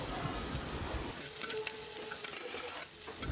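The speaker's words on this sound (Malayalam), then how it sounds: "ഇനി നമുക്ക് ഇതിനകത്തേക്ക് കറിവേപ്പിലയും പച്ചമുളകും ചേർത്ത് കൊടുക്കാം." Curry leaves and green chillies crackle and sizzle in a pan of frying potatoes, a dense steady hiss with light stirring scrapes, close and without speech.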